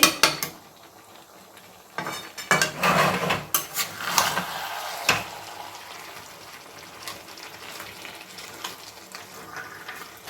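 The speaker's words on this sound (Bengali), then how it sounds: "সুন্দর করে মিশিয়ে দিয়েছি সমস্ত কিছু।" Metal utensil clatters and scrapes against a pan as cabbage is stirred with fish head, potatoes and spices, a busy cluster of knocks in the first seconds easing into softer scraping and sizzle, close and with no talking.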